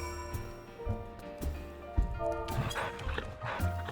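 A dog in the Final Fantasy 14 video game gives a few short yips and barks over the game's steady background music, fairly quiet and spaced out.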